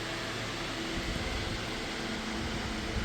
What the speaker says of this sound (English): I got the fan spinning and the heater's on